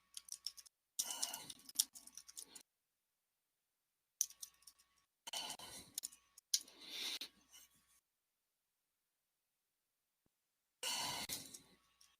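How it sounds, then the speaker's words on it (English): Bursts of clicking on a computer keyboard, close and quiet, several separate runs of keystrokes with silent gaps between them and no speech. "Let me go ahead and just type it out"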